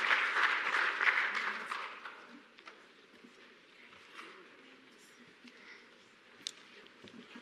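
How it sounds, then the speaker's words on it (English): Symposium audience at a climate resilience event applauds as presenters leave the stage, the clapping loud and full at first, then thinning out and fading to scattered claps within a couple of seconds. "A round of applause, please, for them as they make their way off stage."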